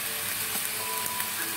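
Food sizzles and fries in a pan, a constant crackling hiss at close range with small pops scattered through it and no voices.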